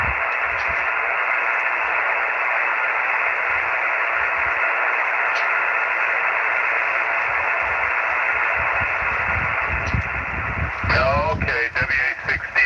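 A ham radio receiver tuned to the open 10 meter band gives a steady, loud band of hiss and static. Near the end it turns into choppy, warbling signal bursts.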